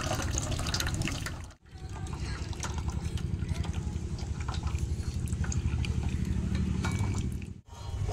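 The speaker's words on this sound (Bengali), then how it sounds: "এবার আমরা ছানাটাকে ভালোভাবে জলটা ঝরিয়ে নেব।" Water steadily draining and trickling from freshly split chhana, fresh cottage cheese made for nolen gur rosogolla, a continuous close splashing flow with two brief pauses.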